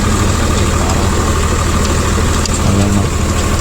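A Swaraj 744 FE tractor engine runs loud and steady in a farm field, a close, constant low rumble with little change in pitch, and a voice is faintly audible under it.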